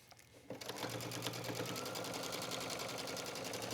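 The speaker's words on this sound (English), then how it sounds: "Continue to stitch all the way down." A sewing machine stitches trim onto a hooded towel. A quiet start leads into a steady, rapid, even needle rhythm that hums close and continuously.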